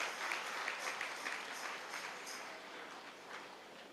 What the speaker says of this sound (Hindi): ताली थोड़ा जोर से बजाइए।